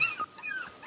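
A brief, high dog whimper with thin whining tones, close and fairly quiet, lasting under a second.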